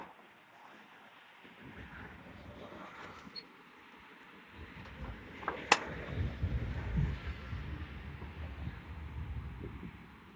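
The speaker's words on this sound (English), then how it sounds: "Oh my gosh, it's so windy." Wind gusts outdoors at a 1983 C10 pickup, buffeting the microphone in low rumbling blasts that grow stronger and more turbulent after a calmer start, with a brief sharp knock midway.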